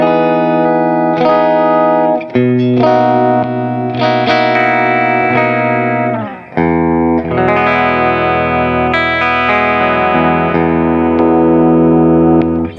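An electric guitar plays on a clean tone with the boost switch engaged, ringing chords and single notes sustaining loudly with effects, bright and full, no voices.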